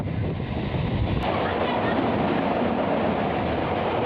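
A South Eastern Railway train running at speed, heard from an open doorway as a loud, continuous rumble and clatter mixed with strong wind buffeting the microphone.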